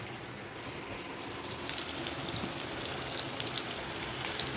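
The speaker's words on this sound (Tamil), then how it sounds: "பொரியட்டும்." Chicken 65 pieces frying in hot oil give a steady, dense crackling sizzle that carries on evenly without a break.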